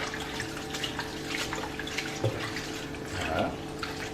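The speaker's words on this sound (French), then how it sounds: "Donc on les lave bien." Nettles being washed by hand in clear running tap water, a steady close splash and trickle of liquid with a couple of louder sloshes, no voices.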